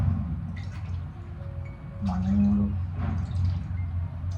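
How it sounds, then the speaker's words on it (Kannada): Water poured by the glassful into a cooking pot for ragi mudde, a few gurgling, splashing pours with short pauses between them, close and fairly loud with no talk. "ಸೊ ಎರಡು ಗ್ಲಾಸ್ ಹಾಕ್ತಿದ್ದೀನಿ ನಾನು ಅದಕ್ಕೆ ಏಳು ಗ್ಲಾಸ್ ನೀರು"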